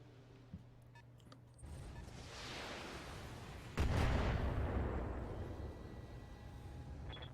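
Weapon fire striking a mech in the Battletech video game, a rising rushing blast followed by a sharper impact boom and a long rumbling decay, moderately quiet with no talk.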